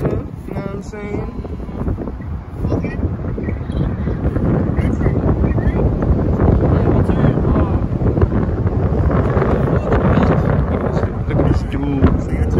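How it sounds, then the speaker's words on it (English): Strong wind buffets the microphone on a bike ride through woods, a loud, continuous rumbling roar that builds steadily, with a voice talking over it. "Now this wind is crazy, y'all."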